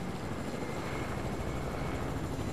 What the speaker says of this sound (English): Oh, our friends have a helicopter too.